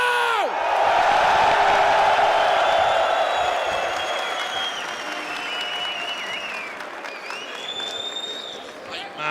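Large arena crowd at the PGL Cluj-Napoca 2025 esports semifinals cheering and applauding, a loud sustained roar of clapping with whoops that gradually eases, with shouted voices mixed in.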